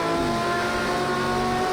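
A Jaguar Group C race car engine in Project Cars 2 at Brno howls loudly and steadily at high revs, holding a sustained, near tone through the whole moment with no talk.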